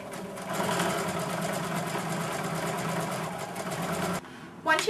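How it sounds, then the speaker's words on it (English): A sewing machine runs steadily while stitching quilt fabric pieces with a quarter-inch seam for a patriotic placemat, a fast rhythmic whirring that stops near the end, followed by a brief clatter. "you're just going to feed it into your sewing machine"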